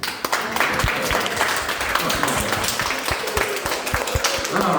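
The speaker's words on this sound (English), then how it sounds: "All right, clap your hands to that skunk." An audience claps for a skunk at a live animal show, a dense, steady patter of many hands that keeps a similar loudness throughout, with a few sharper individual claps standing out.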